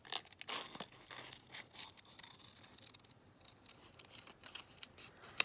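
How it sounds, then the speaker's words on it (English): Scissors cutting out paper ephemera, heard as faint, close snips and crinkly paper rustling in a quiet room, with a sharper click right at the end. "So I was going to cut this one out."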